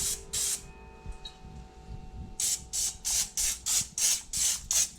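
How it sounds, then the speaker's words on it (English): A cooking spray can sprays a bowl in short hissing bursts: two quick spritzes, a pause, then a rapid series of about eight close, regular puffs. "Spray our bowl a little bit."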